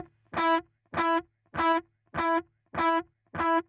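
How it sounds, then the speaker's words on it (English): Guitar through a delay effect with feedback turned all the way up: a short bright plucked phrase repeats six times at an even half-second pulse, each echo nearly as loud as the first, with no talking. "That delay is just going to keep going."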